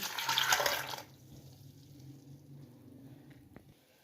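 Water splashes and gurgles briefly into a cooking pot for about a second, a close pour while black chickpeas are prepared, followed by quiet handling noises.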